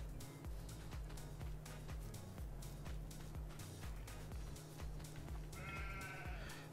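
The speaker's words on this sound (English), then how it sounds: "We're gonna check the sheep." Sheep in the video game Farming Simulator 22 bleat over constant background music with a regular thumping beat, one clear wavering bleat rising near the end, the animal sounds modest in level.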